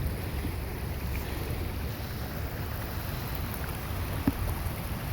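River rapids rush in a steady, dense roar near a wooded riverside ledge, an even continuous wash of water with no breaks and one small knock.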